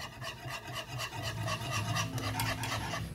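A salted butter caramel mixture is stirred steadily in a pan, giving a continuous close scraping and rubbing sound with rhythmic strokes and no voices.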